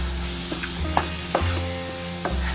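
Spices and cut potatoes for Amritsari Pindi chole fry in a pan with a steady close sizzle, punctuated by several soft scraping stirs of a spoon.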